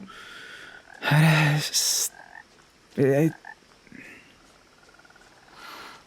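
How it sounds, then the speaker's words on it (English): Toads croak in the video game What Remains of Edith Finch, loud, throaty bursts, a long croak followed by shorter ones, separated by quieter ambient wildlife sounds and soft background noise. "We're getting some ambient wildlife noise from the toads."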